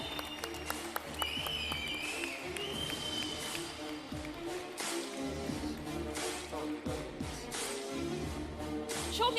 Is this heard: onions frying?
no